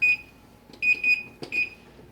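A kitchen timer goes off while flatbread cooks, sounding four short, bright electronic beeps in an uneven pattern, close and clear over a quiet kitchen.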